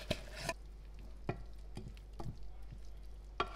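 Ground beef browning in a pan for air fryer mini chimichangas, stirred with a few scraping strokes against a faint sizzle, the clearest near the start and end, with no talking.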